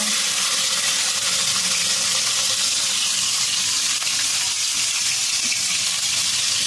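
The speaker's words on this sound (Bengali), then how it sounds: "ওই তেলের মধ্যে আমি কালো জিরে আর কাঁচা লঙ্কা ফোড়ন দিয়ে দিলাম।" Black cumin seeds and green chilies sizzle in hot oil in a pan that was just used for frying fish, a loud continuous hiss with no one talking.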